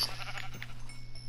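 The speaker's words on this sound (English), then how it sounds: "I found one more sheep." A sheep bleats in the Minecraft video game, a short game-sound cry that stands alone over a steady low hum with no talking.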